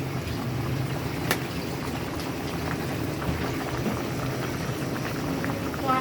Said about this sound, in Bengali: এখন মাছের সাথে বাকি পার্সেন্ট সিদ্ধ হয়ে যাবে